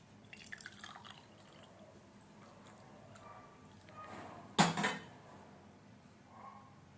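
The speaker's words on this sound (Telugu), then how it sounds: "గోరువెచ్చగా అయిపోయిందండి, ఫిల్టర్ చేసుకుంటున్నాను." Herbal kashayam decoction being strained through a filter at home, heard as soft intermittent dripping with one brief, louder splash of liquid midway, alone and fairly close.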